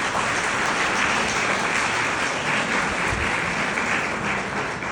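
An audience of law students claps for future judicial officers, a thick, continuous sheet of applause that sounds almost like heavy rain, steady and full for the whole stretch.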